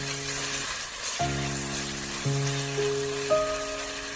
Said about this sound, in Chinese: 炒香之后再加1勺黄豆酱，继续翻炒，炒出酱香味